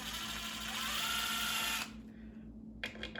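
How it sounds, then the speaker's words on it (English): A power drill backing screws out of a wet slab ceramic bonsai pot mould, running as a steady loud whine for nearly two seconds before stopping, followed by a short second burst near the end. "And get the drill,"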